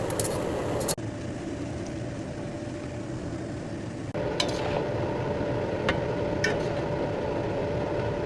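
Pancit canton noodles cooking in a pan give off a continuous dense frying hiss, steady and close, with a couple of abrupt breaks and a few light utensil clicks near the end.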